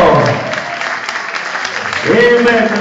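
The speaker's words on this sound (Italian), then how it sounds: "Applausi!" Audience at a club show applauding performers on stage, loud dense clapping throughout, with a presenter's voice rising over it near the end.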